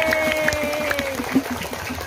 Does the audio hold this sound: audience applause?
yes